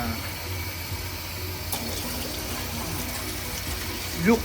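Lukewarm water pours steadily into a mix for katai soba, a Japanese noodle dough, giving a continuous soft rushing hiss throughout with a brief louder splash near the end.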